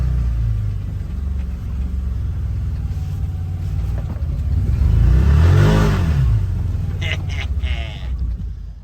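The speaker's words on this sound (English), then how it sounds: "giving you a few different clips of the XMR running around here in northwestern Pennsylvania." Can-Am Defender HD10 XMR side-by-side, a 2023 model, rumbling and revving as it drives around outdoors in chilly northwestern Pennsylvania, the engine note swelling to a louder pass near the middle before easing off, with some voices in the background.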